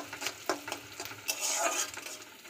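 Onion frying in oil with whole garam masala and dried and green chillies, a soft steady sizzle broken by a few scraping stirs and light clinks of utensil on pan, close and moderately loud.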